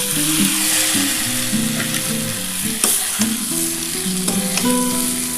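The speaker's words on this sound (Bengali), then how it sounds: "এবার এই ফুলকপিটা দিয়ে দিলাম।" Cauliflower frying in a pan with whole cardamom, a continuous close sizzle with bursts of crackle and a few stirring scrapes, no voices over it.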